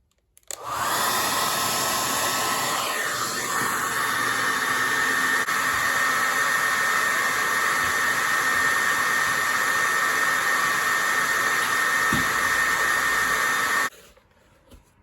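An abrasive tool grinds off a small piece of metal on the exhaust heat riser of a 1946 Jeep, a loud, steady, high whine running unbroken for about thirteen seconds before cutting off abruptly.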